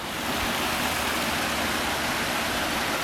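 A professionally landscaped backyard waterfall pours with a steady, broad rushing wash, close and constant, with no voices over it.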